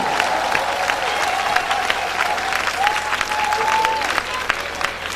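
A church congregation claps and cheers together in sustained, loud applause filling the room, with voices and a held musical tone carrying over the steady clapping.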